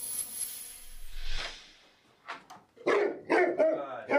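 A police K-9 drug-sniffing dog gives a few sharp barks and yips, close and fairly loud, after a quieter stretch of faint rustling.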